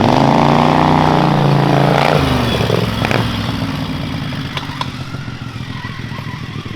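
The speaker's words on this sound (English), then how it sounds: "The squealing you're hearing is the torque converter" A mini bike with a torque converter, a loud close high whine sliding downward in pitch as the engine revs drop, then settling into a rough idle with clatter.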